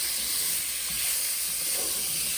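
Sausage, bacon, onions and garlic browning together in a pan for country baked beans, giving a steady broad hiss of sizzling fat that holds evenly throughout without pauses.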